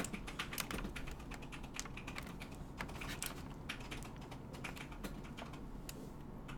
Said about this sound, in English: Are you just gonna step on my keyboard?